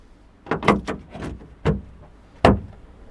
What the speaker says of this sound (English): So I'll put the door on.